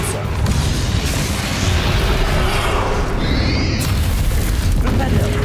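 A Depulso spell cast in the Hogwarts Legacy video game lands as a loud, booming burst inside a dense, continuous layer of game sound, with a sweeping whoosh rising near the end.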